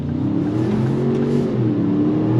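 A 2025 Ford Expedition MAX full-size SUV with a 10-speed automatic accelerates hard on throttle. The engine gives a loud, continuous rising hum from inside the cabin, and the pitch climbs steadily as it gains speed.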